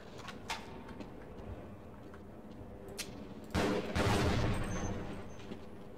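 Gunfire from a newly picked-up weapon in the video game Half-Life, with a few sharp shots early, then a loud sustained burst of rapid fire that tails off, over a busy game soundscape.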